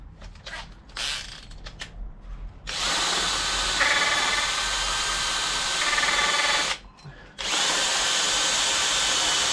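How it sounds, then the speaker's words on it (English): Hub cleaning tool spun by a drill against a Ford Puma front wheel hub, a few short revving bursts then two long steady grinding whirs with a brief pause between, loud and close. "It just makes light work of cleaning the hub up."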